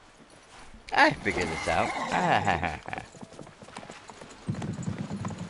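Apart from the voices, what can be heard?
horse hooves clip-clopping in a video game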